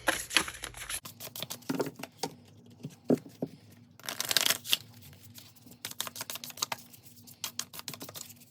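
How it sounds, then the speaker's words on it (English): Tarot oracle cards riffle and slap in quick, crisp bursts, a deck being shuffled repeatedly up close with brief pauses between rounds. "I'm going to go ahead and just shuffle them up a little bit better."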